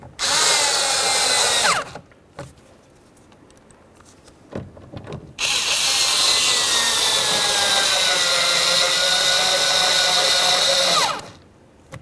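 A power drill drives screws into a 2007-2012 Dodge Caliber door during window regulator replacement, with two loud sustained whirring runs separated by a quiet pause with light handling clicks.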